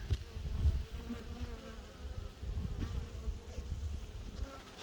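Bees buzz all around, a dense low drone of many insects swelling and fading as individuals fly close past, with no voices over the swarm.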